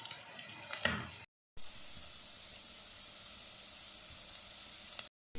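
Onions frying in a pan for Punjabi-style sarson ka saag give a steady, close hiss and sizzle, broken by two short silent gaps and one sharp crackle near the end.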